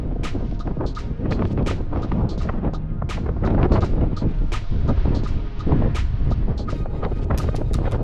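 Strong, gusting wind buffets the microphone on a snowy winter mountain trail below Giewont in the Tatras, a continuous low roar broken by sharp bursts and thumps across the whole stretch, with no voices.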